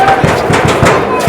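Dense rapid crackle of firecrackers and gunfire at the Barood ki Holi festival in Menar, a loud continuous barrage of overlapping bangs with crowd noise.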